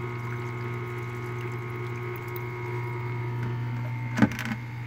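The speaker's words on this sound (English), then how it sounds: "it goes back around and goes back into the water here with this little bit of a stream of water that goes through." A small aquarium pump in a home-brewing temperature-control setup hums steadily while its return stream trickles back into the water, with a brief clatter near the end.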